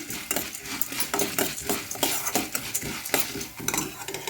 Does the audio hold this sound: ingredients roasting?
yes